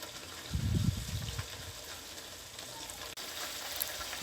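Grated coconut simmering in milk over slow heat gives a soft, steady bubbling sizzle, briefly louder and busier near the start, then settling into a low, even simmer with no voices.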